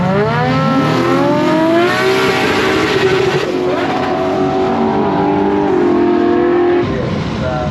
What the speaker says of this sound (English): that was a lot of clutch slip on the start line.